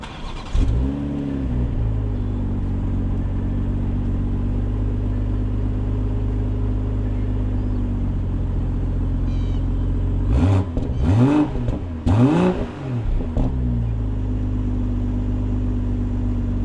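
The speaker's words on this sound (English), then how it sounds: "at least you get to hear a little bit of the startup sound" BMW M340i engine cranks and fires with a loud exhaust burst, settles into a steady idle, then revs sharply several times before easing back.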